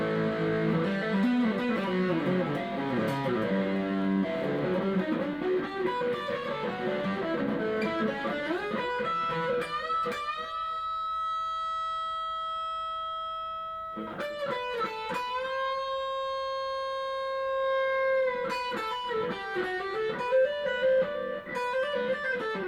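Heavily distorted electric guitar, an older Korean-made Samick, playing chords, then long sustained notes ringing out with a harsh, fuzzy, saturated edge, loud and close.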